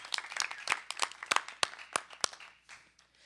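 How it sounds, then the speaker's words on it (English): A modest audience applauds the Albany Marching Falcons with scattered, uneven hand claps that come and go, fading out toward the end. "Let's give a round of applause for our Marching Falcons"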